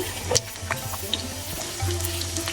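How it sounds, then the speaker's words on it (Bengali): Chopped onion frying in hot oil in a pan for a quick pumpkin dish, giving a soft, steady sizzle with a few light clinks, close and quiet, with no talking. "তেলটা একটু গরম হলে দিব পেঁয়াজ আর মরিচ"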